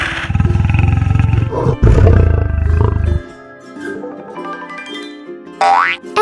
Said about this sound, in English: A lion sounds like this.